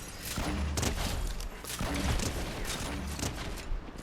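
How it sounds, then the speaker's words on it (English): Repeated heavy grenade launcher fire in a Fortnite Creative map, dense booming volleys and thuds rolling continuously and loudly with no gaps, explosions overlapping throughout. "We're just going to spam them with the grenade launcher."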